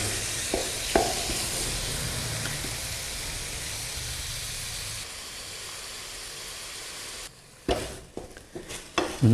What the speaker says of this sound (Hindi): और इसको अच्छे से हमने भून लेना है इस घी में